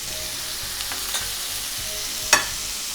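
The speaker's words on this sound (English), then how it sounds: "Give that a stir." Capers and softened mushrooms sizzle in a hot pan, a constant bright hiss broken by a few soft scrapes and one louder stirring clatter near the end.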